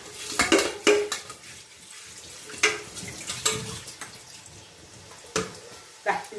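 Cooked rice being drained through a metal strainer pot in a home kitchen, with sharp clanks of metal pots and utensils, running water and splashing, and a few louder knocks spread across the stretch.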